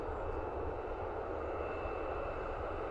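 Ryanair airliner at Dublin Airport, a brief, even jet drone at moderate distance, rumbling steadily without change.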